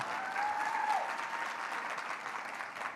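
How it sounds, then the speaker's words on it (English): Sustained applause from a conference audience at a keynote, a dense even wash of clapping that holds steady for the whole stretch and tapers only slightly at the end. "Let's give her another round of applause."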